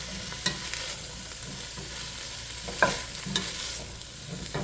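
Mirepoix vegetables sauté in a pan for a hearty soup or stew: a soft, steady sizzle with occasional scrapes and clacks from stirring, quiet and close, with no talking.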